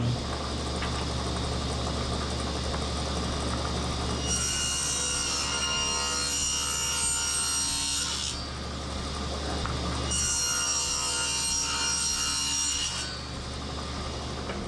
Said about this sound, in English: these dados can be cut right straight through, right? So we're going to cut those.